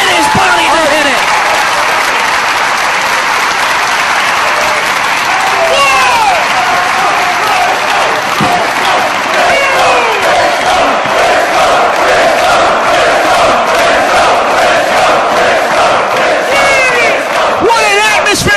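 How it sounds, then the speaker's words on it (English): Sellout wrestling arena crowd in the UK roaring, cheering and applauding on their feet, a loud sustained wash of noise with rhythmic clapping and whistles, with a commentator talking over it. "This sellout crowd is on their feet."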